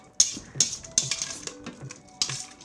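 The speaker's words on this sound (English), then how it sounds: "We just want to stir it up a little." A spoon stirs peppercorns and a bay leaf into pork adobo in an Instant Pot, making a few sharp, close metallic clinks spaced irregularly, with softer scrapes between them.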